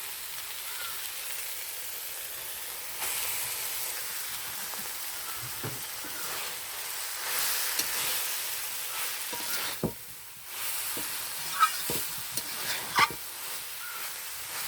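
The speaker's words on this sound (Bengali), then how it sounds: "মশলার সাথে ভালোভাবে কষানো গাজরটা মিশিয়ে নিচ্ছি।" Carrots being stirred with spices in a hot pan for a carrot-and-prawn dish, with a steady soft sizzle throughout and occasional scraping clicks of the spoon against the pan, no talking.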